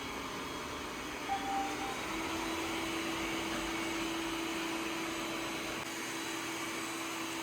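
A Yeedi Vac 2 Pro robot vacuum runs at maximum suction, a loud, steady whirring drone with a constant high motor whine that persists without pause, close by on the floor.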